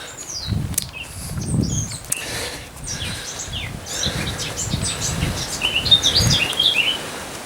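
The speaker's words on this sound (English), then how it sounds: "Nice bird song there." Birds chirp and twitter in short, bright phrases over a soft low rustling background, moderately close, with no speech.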